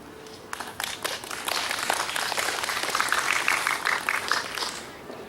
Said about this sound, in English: They clap whenever they're not sure to.